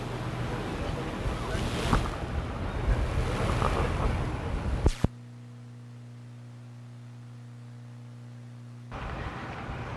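Wind and rushing water from a large ferry crossing a bay for about five seconds, then cutting to a quiet engine hum.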